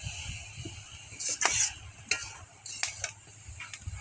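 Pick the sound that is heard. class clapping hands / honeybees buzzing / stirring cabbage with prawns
stirring cabbage with prawns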